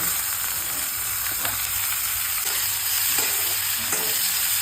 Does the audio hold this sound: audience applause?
no